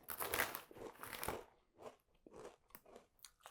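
Crunchy barbecue-flavoured snacks being bitten and chewed up close, a burst of loud crisp crunches followed by softer, spaced chewing crackles.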